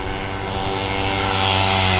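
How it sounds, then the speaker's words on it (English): Loud motorcycles pass nearby, giving a steady, heavy engine drone that swells slightly toward the end. No voices can be heard over the noise. "these motorcycles are loud"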